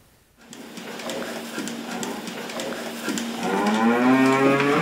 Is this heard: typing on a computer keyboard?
no